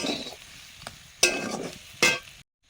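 A ground mix of fried cumin, coriander and dried red chilli is stirred in a pan, giving three sharp scrapes and sizzle bursts over a low frying hiss before it cuts to silence.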